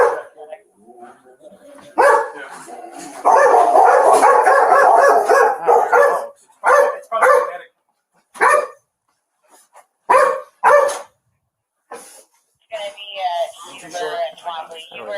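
Several dogs bark and yip in bursts, loud and close, with clusters of rapid barks separated by short pauses and a few higher whining yips near the end.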